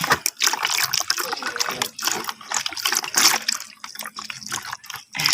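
Energy drink poured out for soaking a plant cutting, a close liquid trickle and splash that runs unevenly in bursts with brief pauses, no talking.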